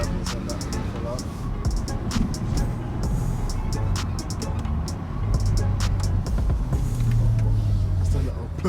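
A small motorbike idles at a car meet, its exhaust spitting irregular sharp pops and crackles over a low engine rumble, with voices murmuring in the background.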